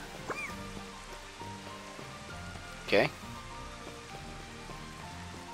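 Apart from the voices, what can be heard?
rain in the video game Final Fantasy XV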